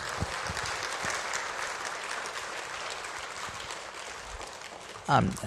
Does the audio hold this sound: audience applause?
yes